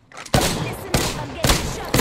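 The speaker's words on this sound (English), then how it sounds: "I'm taking shots." Gunfire in the video game Apex Legends, four loud, sharp shots spaced roughly half a second apart, each with a ringing decay, close and dominant in the mix.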